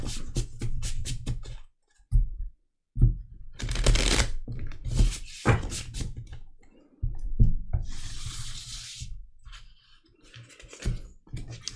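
Tarot cards are shuffled in repeated soft riffles and slides, close and quiet, with pauses and light handling noises between bursts.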